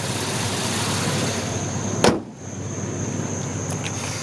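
A 1998 Ford Explorer with the 4.0 engine runs at a steady raised drone, then a sharp click or pop cuts in before the engine note settles back to a slightly quieter steady hum, close by with no talk.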